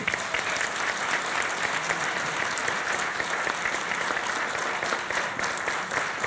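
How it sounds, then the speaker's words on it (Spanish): A large audience claps loudly and steadily throughout at a formal swearing-in ceremony for a workers' union executive committee held in a senate chamber. "les damos un fuerte aplauso."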